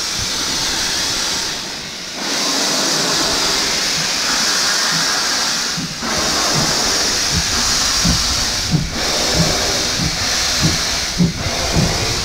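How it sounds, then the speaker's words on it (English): A steam train passes near Aviemore in Scotland, a loud continuous steam hiss with rhythmic chuffing and clanking growing through the passage, no talking. "That train is eco-friendly."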